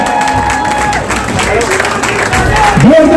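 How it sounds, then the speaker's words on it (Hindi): Audience applause and cheering from a crowd at an Indian Independence Day celebration in Canada, steady loud clapping throughout with a voice calling out near the end. "जोरदार तालियां इनके लिए."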